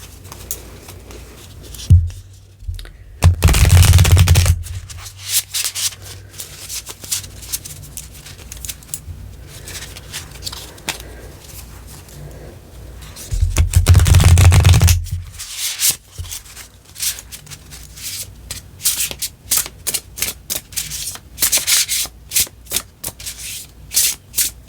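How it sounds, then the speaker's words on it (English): An oracle deck of cards is given two brisk shuffles, each a dense riffling burst of a second or so, with quieter card handling and taps between them. "I'll give it a good shuffle also."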